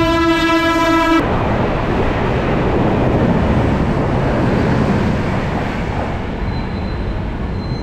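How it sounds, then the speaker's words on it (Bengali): Humsafar Express passenger train, number 37798, pulling into a station platform: a sustained horn blast sounds at the start, then steady loud rumbling and rolling noise from the passing coaches continues throughout. "এই তো চলে এলো আমাদের হামসাফার এক্সপ্রেস"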